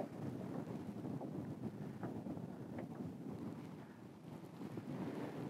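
Wind blows across open water in winter, a steady low rushing roar buffeting the microphone continuously without a break.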